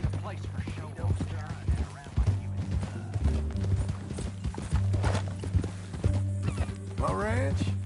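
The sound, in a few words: horse hooves clip-clopping in Red Dead Redemption II video game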